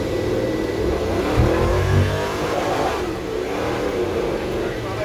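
A 1967 El Camino restomod accelerates hard toward its 6,500 rpm rev limiter, its engine roaring loud and steady throughout, with a voice faintly underneath.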